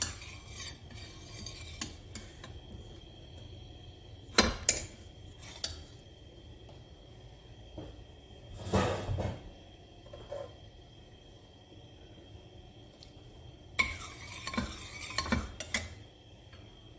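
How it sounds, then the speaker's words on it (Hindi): Melted ghee heats in a pressure cooker while a metal spoon scrapes and stirs, making intermittent clinks and clatters against the pot over a faint low sizzle. "प्रेशर कुकर में मैं घी डाल रही हूँ, 1 चम्मच भर के जमा हुआ है।"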